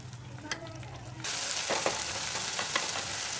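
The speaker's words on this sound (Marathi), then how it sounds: "ह्याला परत 3-4 मिनिटासाठी छान परतून घ्यायचे व्यवस्थित, ह्याचा आंबटपणा कमी होईपर्यंत" Fresh curd being sautéed in a pan for a vegetable dum biryani, with a steady sizzling hiss that jumps louder after the first second and continues with a few scraping stirs, close by and with no talking.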